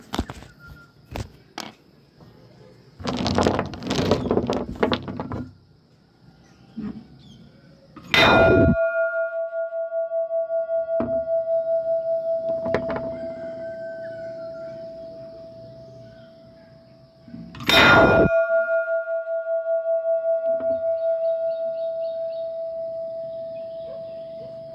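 A death bell tolls, with two loud metallic clangs several seconds apart, each ringing on with a long sustained tone, separated by quieter scattered knocks and rustling.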